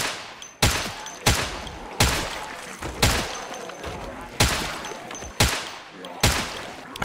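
Rapid bursts of automatic gunfire in the Project Russia video game, about seven loud volleys spaced roughly every second, each with a sharp attack and a short decaying tail over a constant background rumble.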